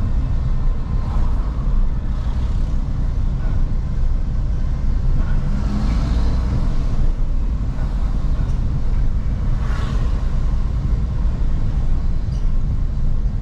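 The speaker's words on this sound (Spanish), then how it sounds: "Tráfico." Street traffic in Acapulco, a loud, continuous low rumble of passing cars and heavier vehicles heard from close by, with engine swells rising and fading over the steady roar.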